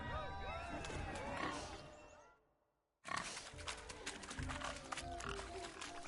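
Pigs squeal and grunt as they are chased in The Witcher 3, mixed with game sounds and voices. The noise cuts out briefly to silence, then bursts back in with a busy, loud chase.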